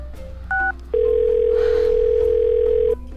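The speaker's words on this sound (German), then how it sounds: "Ich muss jetzt in der Schule anrufen." A telephone dial tone sounds while a call is placed to a school. A brief two-tone blip comes first, then a steady, loud continuous tone holds for about two seconds over faint background noise.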